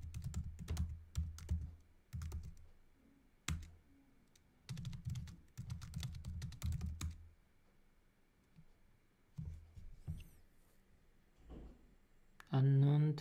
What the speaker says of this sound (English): I'm gonna try to type it in again.